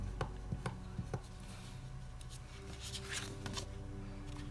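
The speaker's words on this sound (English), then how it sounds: "set that crease in with our bone folder" A bone folder setting a crease in folded papercraft paper, with a few quick scraping and tapping strokes at the start and then softer rubbing, quiet and close, with no voices.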